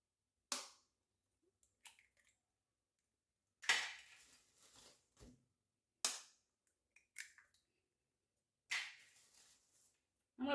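Three chicken eggs being cracked into a bowl while preparing a beef cake for an iftar meal: sharp, close shell knocks in separate bursts, each followed by softer clicks and small dribbles, with quiet gaps between.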